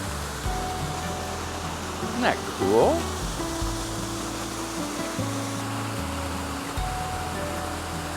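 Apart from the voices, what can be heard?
indoor waterfall in a mall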